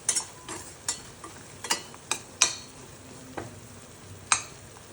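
Jaggery melting in a pan for a sweet-sour raw mango pickle, stirred with a spoon in scattered scraping taps over a soft, steady sizzle.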